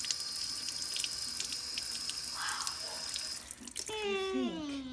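Tap water runs steadily into a kitchen sink while a penny is rinsed after soaking in vinegar. The flow is continuous and hissing, then changes near the end with a rising tonal gurgle as the water shifts.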